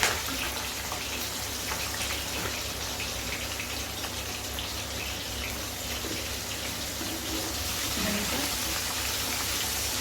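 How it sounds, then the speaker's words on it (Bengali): Salted raw banana slices fry in hot oil, giving a dense, even crackling sizzle like steady rain that holds at a constant level throughout. "এখন আমি গরম তেলের মধ্যে দিয়ে দেবো।"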